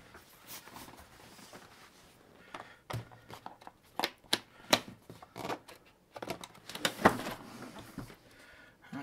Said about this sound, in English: Let's open up the box and get the rest of it.